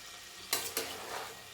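Boiled stingray fish being sautéed in oil, where two quick scraping stir strokes rise over a quiet background sizzle.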